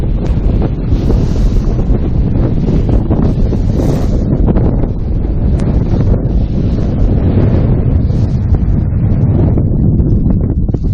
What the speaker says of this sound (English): Winds are sustained, 22 to 25 mile per hour winds, gusts of 40 miles per hour, blowing into the off of Lake Michigan into here.